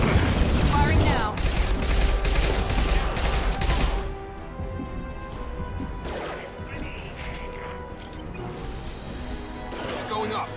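Gunfire in the Mass Effect 2 video game: dense, loud bursts of rapid weapon fire for the first few seconds, then a lower rumbling battle bed with a few more scattered shots, while people talk over the action.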